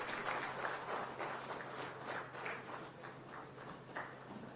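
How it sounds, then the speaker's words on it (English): An audience at a North-East zonal conference applauds to welcome the Chief Minister of Assam, a faint, distant, sustained clapping with uneven swells. "With a round of applause, ladies and gentlemen, we welcome the Honorable Chief Minister of Assam"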